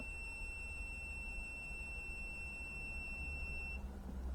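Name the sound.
AFERIY P210 portable power station beeping while button held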